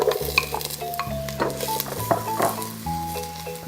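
Celery, carrot and potato for an oxtail soup are stirred in a pot, with a string of close scrapes and clinks of a utensil against metal over a light sizzle, while a tuneful melody plays in the background.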